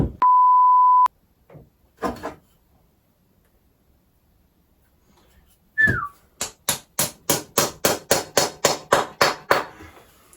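An antique claw hammer head is driven onto a wooden handle with a quick burst of about a dozen sharp, ringing wooden knocks that speed up toward the end, after a long electronic beep, a couple of isolated taps and a brief squeak.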